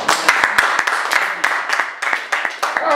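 A church congregation claps along in quick, steady, rhythmic strikes, loud and close, with voices mixed into the clapping.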